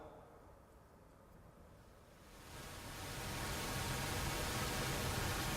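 Noise from a Moog synthesizer: a quiet, dull hiss that swells about halfway through into a louder, brighter, steady rushing noise, heard alone without any talking.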